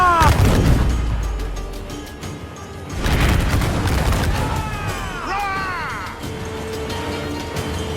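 Ship cannon fire in the pirate naval game Assassin's Creed 4 Black Flag, with heavy booms at the start and again around three seconds, rumbling under game music and shouted voices.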